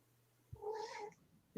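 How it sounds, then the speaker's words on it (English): A cat yells once, a single brief, close yowl rising out of quiet before a sudden thump at the end. "Is that your cat's yelling, isn't it?"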